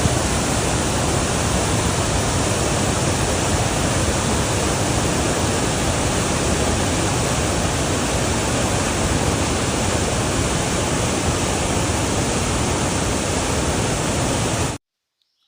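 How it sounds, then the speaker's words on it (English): Floodwater rushes down a flooded Appalachian Trail hiking path as a loud, steady, broadband roar, constant and close for the whole stretch before cutting off abruptly at the end. "Wow, that is a lot of water moving down the trail."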